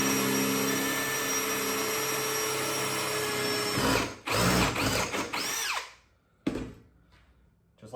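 A step drill bit bores through a workpiece for a woodworking panel-clamp build, giving a loud steady whirring drill drone for several seconds, then spinning down in short bursts and trigger pulses before trailing off.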